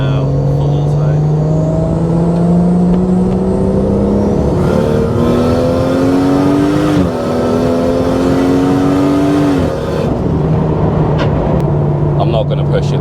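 A Toyota Supra with a ZF8HP automatic gearbox in comfort mode drives on a wet road, its engine droning loudly and rising in pitch through each gear, dipping smoothly at two clean shifts as people talk inside the cabin.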